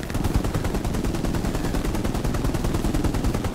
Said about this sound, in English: It's a Puma, not an MG